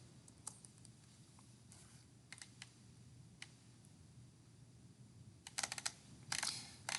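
Keys tap on a computer keyboard as a vim write-and-quit command is typed, with scattered single clicks followed by a quick closing burst, fairly faint against a quiet background hum.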